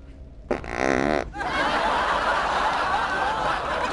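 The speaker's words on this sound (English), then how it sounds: "Damn, dude, you farted?" A single fart bursts out loud and close for nearly a second, a buzzy rasping blast, followed by a steady hiss of background noise.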